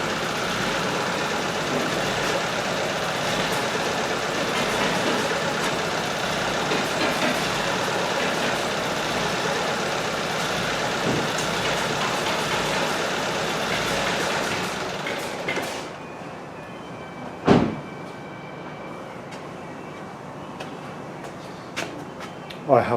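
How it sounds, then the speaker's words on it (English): VW Golf Mk VII 1.4 TSI petrol engine idling steadily in a workshop for about fifteen seconds, then shut off, leaving near silence broken by a few faint clicks and knocks. "now I'm going to turn the engine off"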